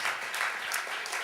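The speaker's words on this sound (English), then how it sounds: "if you want to clap, please do" Brief burst of audience applause at a reading event, soft and fairly even clapping over a short moment.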